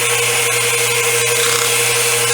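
A pneumatic hand engraving tool driven by an air compressor runs with a steady, loud, rapid pulsing buzz and a constant hum, with no pauses.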